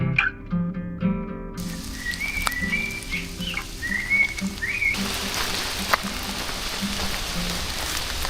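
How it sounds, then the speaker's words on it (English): Rain falling in a forest in Denmark, a steady hiss of drops on surfaces, with whistling bird-like calls and brief tonal sounds over it early on, no talk. "It's raining a lot."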